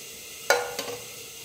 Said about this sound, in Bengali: ব্যাটারটা আমি ভালো করে ফেটিয়ে নিয়েছি এবার আবার জল দিয়ে দেবো